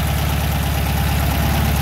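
Engine fitted with a new carburetor idling close up, a loud, steady, even low rumble with a regular pulsing beat and no voices.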